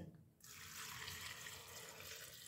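Water pouring into a pressure cooker holding red lentils, green chilli and spinach, a steady faint rushing stream starting abruptly after a brief pause and running on alone.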